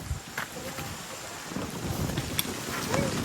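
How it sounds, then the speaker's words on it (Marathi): Rain and thunder arrive over a farm field, with a steady wash of rain and gusty wind buffeting the microphone, plus low rumbling swells that grow louder toward the end. "पाऊस आला."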